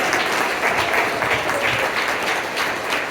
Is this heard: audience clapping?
yes